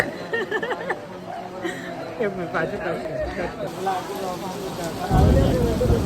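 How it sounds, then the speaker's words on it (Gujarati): Heavy rain pours down on an outdoor live-stream setup, a steady hiss of falling water heard under ongoing conversation, with a deeper rumble swelling near the end. "જબરજસ્ત વરસાદ ચાલુ થઈ ગયો"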